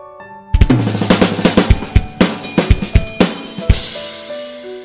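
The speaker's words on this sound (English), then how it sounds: "it's the sound of a drum." Hand drum music, a lively run of close, punchy beats in a quick rhythm with a few deep resonant strokes, lasting several seconds and fading at the end, no voices.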